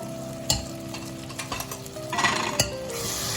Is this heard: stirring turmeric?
yes